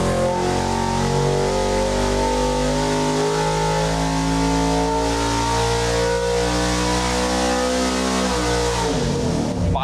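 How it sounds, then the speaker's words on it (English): A Ford Granada sleeper's V8 roars at a sustained, loud high rev on a dyno in a test cell, the steady howl holding for several seconds before dropping off sharply at the end. "Well, that sounds like a real engine right there."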